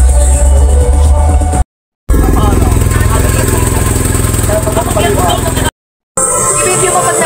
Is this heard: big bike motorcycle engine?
yes